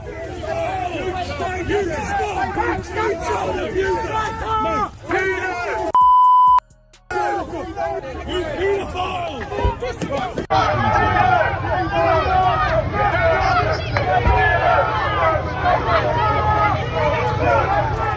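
Protest crowd outside Parliament shouting at Keir Starmer, a dense babble of raised voices and yelling that runs throughout, briefly cut by a sharp electronic beep midway, then swelling louder and fuller toward the end.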